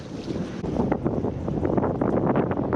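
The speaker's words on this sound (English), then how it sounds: "The wind is blowing especially hard today" Strong wind gusts across an open coastal fishing spot at Aitutaki, a loud continuous rushing buffet with heavy low rumble, as if striking the microphone, with no voices.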